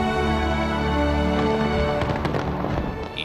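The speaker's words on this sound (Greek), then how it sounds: "Η νύχτα έγινε μέρα από το πλήθος πυροτεχνημάτων που άναψαν τον ουρανό." New Year fireworks over Sydney Harbour crackle and pop in a dense, continuous barrage, mixed with a strong tonal, music-like drone that runs through the whole stretch.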